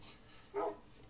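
A single short, faint Minecraft dog bark sounds once amid quiet background ambience.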